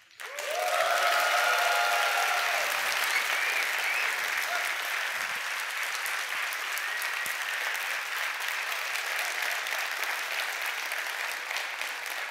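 A theater audience at a conference applauds loudly, with sustained clapping and some cheering that starts abruptly and continues steadily before slowly thinning out.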